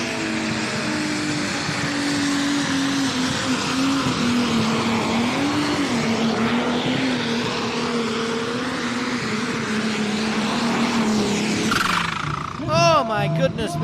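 A pulling tractor screams at high RPM through a full pull at a European tractor pulling event in Edewecht, its loud sustained engine note wavering in pitch with a commentator talking over it.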